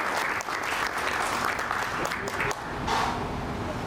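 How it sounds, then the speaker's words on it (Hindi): Audience at a World Pharmacist Day gathering of a pharmacists' association in Mau claps loudly and steadily to welcome a guest, a dense continuous wash of applause with a brief dip partway through. "एक बार आप सभी लोगों से निवेदन करूंगा कि जोरदार तालियों के साथ आप इनका अभिवादन करेंगे।"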